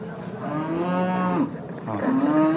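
A cow at a livestock bazaar in Jizzakh's Bakhmal and Usmat area gives two long, loud, near moos, the second rising after a short break.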